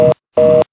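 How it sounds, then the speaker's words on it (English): A phone ringing in the video game Bad Milk: two loud, steady electronic ring tones, a short burst then a longer one, separated by silence. "Let's just give them a try or let it ring."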